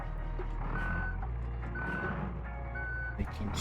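A school bus in BeamNG.Drive reverses with evenly spaced beeps over a steady low engine hum, while a person talks quietly.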